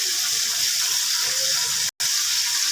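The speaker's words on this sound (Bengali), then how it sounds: "একে একে আমি সব মশলাগুলো দিয়ে দিচ্ছি। লবঙ্গ, এলাচ এবং জয়িত্রী।" Whole cloves, cardamom and mace sizzling in hot oil as a steady, loud, bright frying hiss, broken only by a brief dropout near the end.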